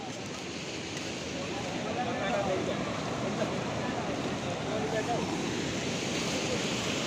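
A flooding river at Rangpo on the Sikkim border roars as a steady, broad rush of churning water, with wind buffeting the microphone throughout.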